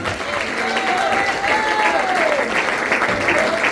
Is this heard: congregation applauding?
yes